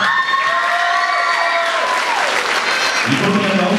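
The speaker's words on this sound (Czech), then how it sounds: "Výborný aplaus, ale není tu." Audience applause at a primary school's annual academy show in Česká Lípa: steady, dense clapping from a hall crowd throughout, with ringing tones and some shouts mixed in.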